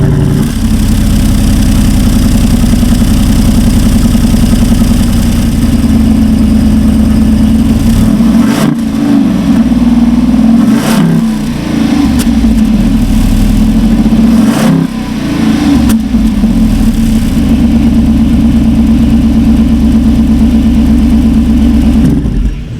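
A 2021 Jeep Wrangler Rubicon 392 V8 running close and loud, a deep rumbling idle broken by several sharp throttle blips and revs in the middle, then settling back to a steady burble.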